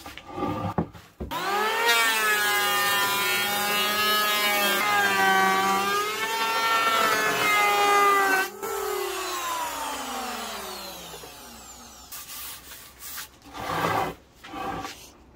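A power sander grinds the rough back face of a wooden slab, a whining motor tone that rises and dips steadily for several seconds, then trails off into scraping and short bursts of rubbing.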